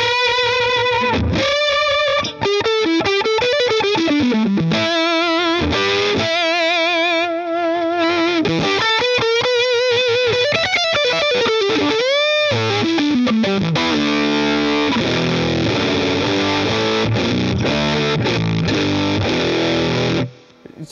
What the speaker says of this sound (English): But you can actually still hear it's fuzz.